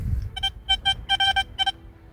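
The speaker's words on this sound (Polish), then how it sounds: "mam fajny sygnał wysoki, ale on nie jest taki mocny" A metal detector sounds bright, high beeping tones in short bursts, several quick pulses in a row over faint low rumble, close by.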